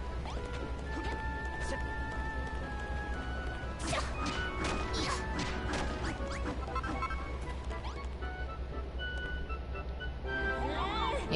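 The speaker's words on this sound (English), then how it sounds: "Come up and see if you can break this wall behind me." A wall being smashed in the video game Dragon Quest Builders 2, with a few crashing, thwacking impacts over steady game music while a person talks throughout.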